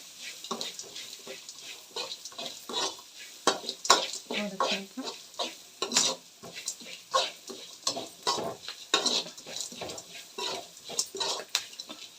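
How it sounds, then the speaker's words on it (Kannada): Curry leaves stirred in a pan over a low flame for a Malnad-style ivy gourd rice bath, a steady run of soft scraping and sizzling strokes, close and moderately loud, with no talk over it. "ಕರ್ಬೇವಿನ ಸೊಪ್ಪನ್ನು ಕೂಡ ಹಾಕಿದ ನಂತರ ಚೆನ್ನಾಗಿ ಹಿಂಗೆ ಕೈ ಆಡಬೇಕು"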